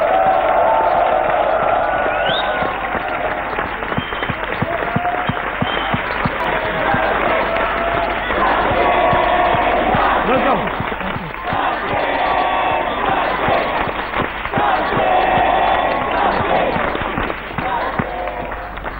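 A studio audience cheers and applauds loudly and continuously for Sachin Tendulkar's entrance onto a television stage set, a dense roar of clapping and shouts.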